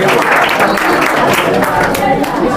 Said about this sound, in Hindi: पहले तो बच्चों के लिए तालियां